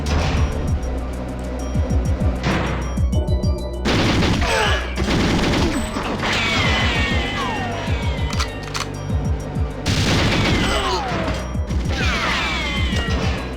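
Rapid automatic gunfire in GoldenEye 007 on the N64 crackles in dense, loud bursts almost throughout, with short gaps and overlapping shots layered over game music and clanking effects.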